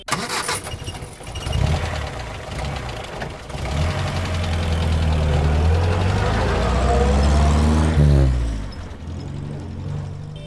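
A large bus engine rumbles and revs up, growing louder and steady as the bus pulls away, then drops off near the end, with faint voices in the background.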